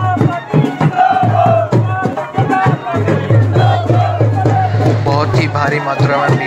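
Large crowd gathered at a school to welcome the local MLA, a loud dense babble of many voices with shouts rising over the continuous hubbub.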